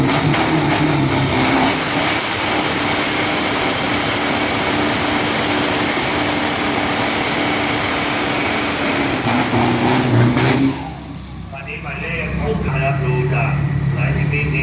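A 1.5-ton street car with a 3000cc turbo engine accelerates hard in a qualifying run, a loud, sustained engine roar that drops off near the end, with a commentator talking over it.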